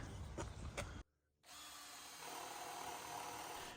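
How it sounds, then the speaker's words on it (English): A power drill bores a guide hole into a white oak table base, with a brief burst, a short pause, then a steady, close, sustained whir. No one speaks. "We recessed them with a paddle bit and then drilled a guide hole"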